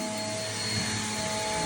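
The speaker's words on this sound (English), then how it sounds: "Let's see if we got a little vacuum in there." A Bissell vacuum cleaner runs steadily indoors on a house's stairs, a constant whining drone heard alone.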